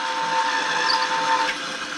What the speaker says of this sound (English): See, that takes the burr off of there.